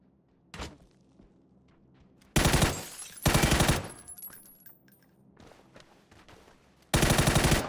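Machine-gun fire in PUBG on console: one short burst, then two loud, rapid bursts close together, and after a quieter gap another sharp volley, with faint clatter in between and no talking.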